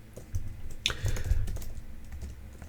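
Keys clatter on a computer keyboard during a software debugging session, a quick run of close, light taps with a few sharper strokes, no voices.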